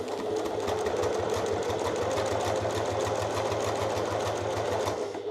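A sewing machine stitches down a strap with a quick, steady run of mechanical clatter, a regular rapid rhythm heard up close that carries on for several seconds before stopping abruptly.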